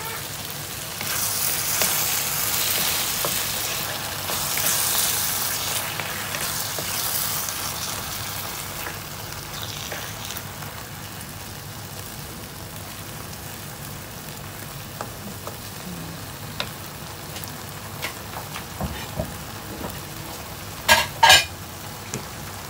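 Dried bisugo fish (tuyo) frying in a pan, a steady, fairly loud sizzle that fades gradually, with a few sharp utensil clinks near the end.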